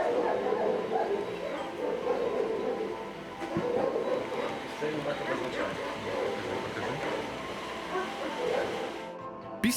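A service dog barks with sharp, scattered yips outdoors, moderately distant, against a steady background rumble like a passing train, with some voices mixed in.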